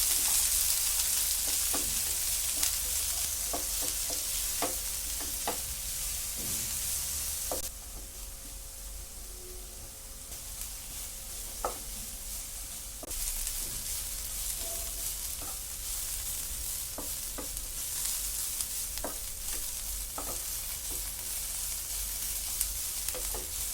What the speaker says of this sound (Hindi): ऑयल गर्म हो जाने के बाद उसमें कटी हुई प्याज ऐड करके फ्राई कर लेंगे।